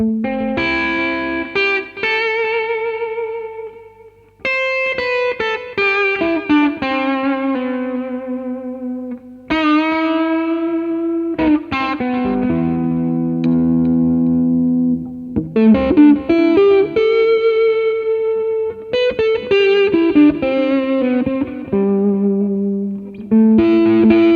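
Sustained electric guitar notes and chords ring out through an Ibanez DL5 delay pedal, with repeating echoes and a wash of effects, playing continuously and loudly without any speech.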